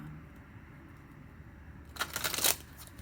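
Tarot cards being shuffled, with a short burst of crisp riffling and rustling near the end that follows a quiet stretch, close and clear.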